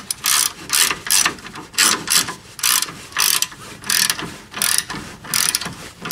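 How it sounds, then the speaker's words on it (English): A ratchet clicks loudly and rhythmically in quick repeated strokes as the lower nut and bolt of a 2010 Nissan Rogue rear shock are tightened, with close, sharp metallic ratcheting bursts throughout. "I'm going to just tighten down this nut and bolt as far as I can"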